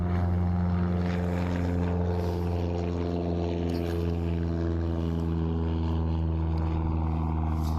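A Cessna 310R propeller airplane drones steadily overhead, a continuous low humming roar with a constant pitch throughout.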